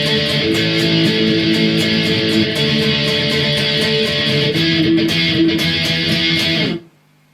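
Distorted electric guitar chugs through the chorus of a song with steady driving palm-muted rhythm and chord changes, loud and close, before cutting off abruptly near the end.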